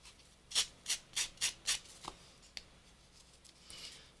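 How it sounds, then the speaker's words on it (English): Sandpaper rubbed over a damp recycled paper Christmas tag, five quick, evenly spaced rasping strokes up close, followed by a couple of faint taps and a soft scuffing trail. "you can get away with sanding it usually when it's kind of"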